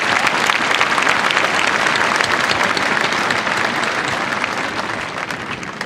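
A large audience at a Glynn Academy Class of 2014 high school graduation ceremony breaks into loud, continuous applause, a thick roar of clapping that holds steady and eases slightly near the end.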